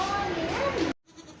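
A goat for sale at a livestock market bleats once, a long wavering cry lasting almost a second, close and fairly loud, followed by a sudden quiet gap and faint background noise.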